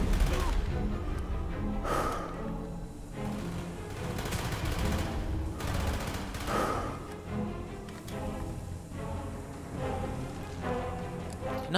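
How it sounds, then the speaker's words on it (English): Rapid bursts of Polish submachine gun fire in Call of Duty: Black Ops at the Cosmodrone, loud repeated volleys and clattering shots with short pauses, mixed with game effects and grunting voices. "this is a Polis submachine gun"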